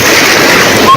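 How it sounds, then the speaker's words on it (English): Tsunami waves hit the coast of Tonga near Nuku'alofa as people watch from the beach, a loud, close roar of surging surf and splashing water filling the whole moment without a break. "Tongans are on the beach to film the first waves hit the coast."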